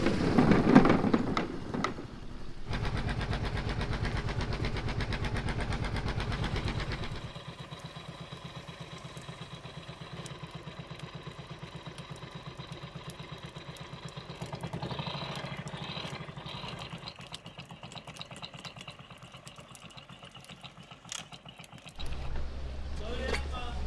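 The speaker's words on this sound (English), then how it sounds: "That was really cool to get an engine so close with the hydrophone." A steady, muffled engine drone recorded underwater with a hydrophone, loud and close, with churning hiss and low rumble that shifts in level over time.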